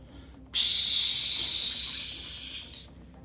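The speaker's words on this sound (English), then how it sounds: "Slap that butter on, you hear that sucker sizzle" Butter hits a hot surface with a sudden loud sizzle that holds for about two seconds, then cuts off.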